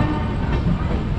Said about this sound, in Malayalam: ഡെറാഡൂൺ റെയിൽവേ സ്റ്റേഷനിൽ ഫൈനലി ഞങ്ങളിത് എത്തി കേട്ടോ.